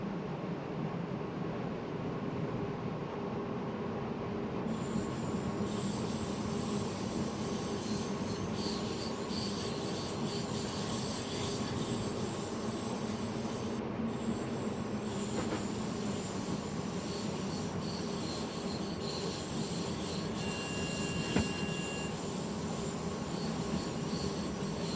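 A DB BR442 electric multiple unit runs on the Mittenwaldbahn in Train Simulator. A continuous rumble of wheels on rail with high squealing tones carries on steadily for the whole stretch, with no voices.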